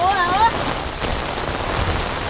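Heavy rain pours down in a dense, steady hiss that fills the whole clip, with a brief voice heard at the very start.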